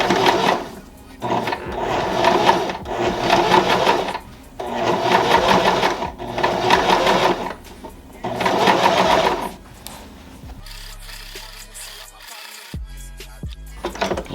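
A home sewing machine stitches a pants hem in several loud, rapid bursts of needle chatter separated by short pauses, followed by quieter mechanical clicks and handling.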